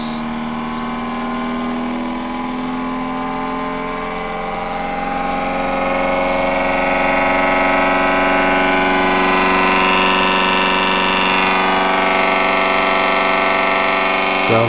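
A small electric motor runs at 12 volts on a test setup, giving a loud, steady whine with a layered hum that holds constant and rises slightly in pitch partway through. No one talks.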